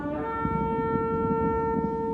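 A ram's horn shofar blast from a played film scene, a steady sustained horn tone with strong harmonics holding loud and unbroken over a low rumbling background, with no voices.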